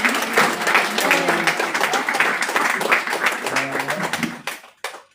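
A congregation at a church service claps and cheers in dense, sustained applause that fades out toward the end, with a few voices rising from the crowd.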